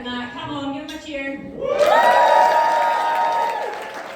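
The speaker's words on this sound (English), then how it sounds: "Come on, give him a cheer." An audience at a speech event cheers and applauds for a speaker, the noise swelling halfway through into a loud, sustained burst of clapping, whoops and shouts.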